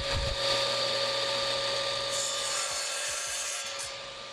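A small block of wood is cut at a woodworking bench, a steady close rasping cut running without pause for a few seconds.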